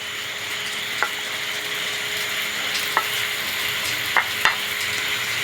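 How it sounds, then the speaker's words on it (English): Bacon rendering on a grill, a steady close sizzle with a few sharp clicks and taps from utensils against the cooking surface, no speech. "So we're going to render this bacon down, get it nice and crispy, or somewhat crispy."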